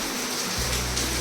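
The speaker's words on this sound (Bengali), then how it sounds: "বাইরে বৃষ্টি পড়ছে" Rain falls outside, a short, soft, even hiss of steady rainfall heard from indoors with no other sounds.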